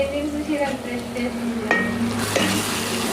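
Onions fry in a pan for a dhaba-style tomato curry, sizzling steadily up close while a spoon stirs and scrapes, with a couple of light clinks against the pan.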